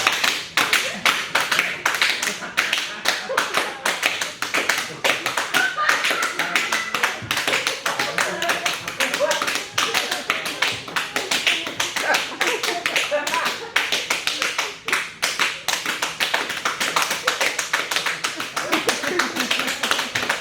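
Live concert performance: a steady stream of crisp, rapid hand claps in interlocking rhythmic patterns, continuous and fairly loud for the whole stretch.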